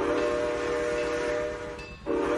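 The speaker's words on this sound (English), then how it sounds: "Classic train noise." An oil-fired steam locomotive in the Trainz 2019 simulator rolls along with a loud, steady rumble and sustained whistle-like tones that briefly dip near the end, then resume.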